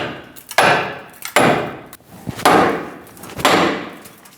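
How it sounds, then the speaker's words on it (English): On a 2001-2006 Chevrolet Silverado 2500 HD, a hammer strikes the steering knuckle to free the lower ball joint, four loud metallic blows spaced about a second apart, each ringing out briefly. "Using a hammer, we're going to release the lower ball joint from the knuckle."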